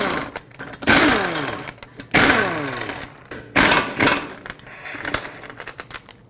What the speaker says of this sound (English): you can take your 21mm socket and remove all 5 of your lug nuts